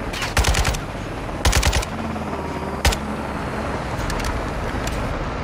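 Rapid bursts of automatic gunfire in Call of Duty: Modern Warfare 2 (2022) ring out close and loud, two long rattling volleys and a single heavy shot, then fainter distant fire over a steady rumbling background.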